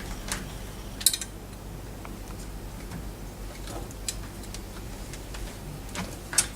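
A hand-cranked pasta machine rolls polymer clay through at a thinner setting, making a quiet, steady mechanical grinding with a few sharp ratcheting clicks near the start and end.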